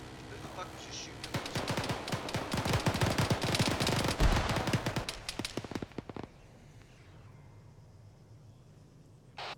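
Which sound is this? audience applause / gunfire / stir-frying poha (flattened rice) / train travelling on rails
gunfire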